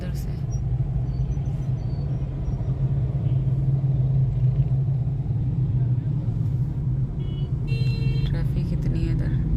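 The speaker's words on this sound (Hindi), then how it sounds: "ट्रैफिक इतनी है इधर।" Heavy road traffic fills a busy market street with a steady low rumble of cars and engines that stays close and continuous, while people talk over it and a few faint horn-like tones appear near the end.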